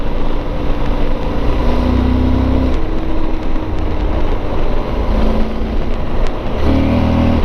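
A motorcycle engine drones loud and steady with wind buffeting throughout, shifting in pitch a few times as the rider tries to lift the front wheel into a wheelie.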